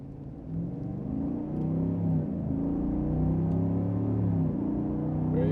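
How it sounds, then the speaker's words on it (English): A 2024 GMC Sierra 1500 AT4X pickup with a 6.2 engine accelerates hard in sport mode, its exhaust a deep, rising rumble heard from inside the cab, climbing steadily in pitch. "that sound with the exhaust when you put it into sport mode does make a difference"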